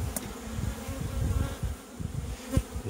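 A swarm of honey bees buzzes close by during spring swarming at an apiary, a dense, continuous droning hum with individual bees passing loudly near.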